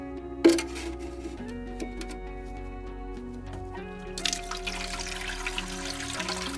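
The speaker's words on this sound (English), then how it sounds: "when it rains, the water falls inside and then we can use it to water the plants" Rainwater collected in a household tank pours out to water plants, a steady trickling stream with a brief clunk at the start and a louder, splashier gush near the end.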